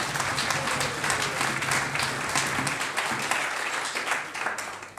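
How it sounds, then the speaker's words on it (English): Audience at a cycling club awards night clapping in a hall, a sustained round of applause from many hands with some individual claps standing out, easing off slightly toward the end. "I think that deserves a kind of clap in itself."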